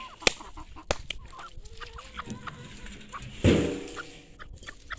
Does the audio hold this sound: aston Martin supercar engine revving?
no